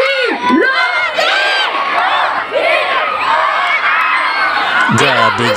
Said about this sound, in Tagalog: Lalong naghihiyawan yung mga tao.